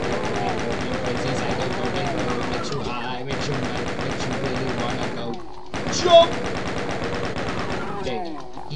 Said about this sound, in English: We're going to take our chain gun out.